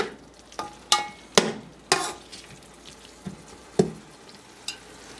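Mutton cooking with cumin powder in a pot, a soft sizzle broken by sharp clacks of a spoon scraping and knocking the metal every second or so, close and unaccompanied by talk.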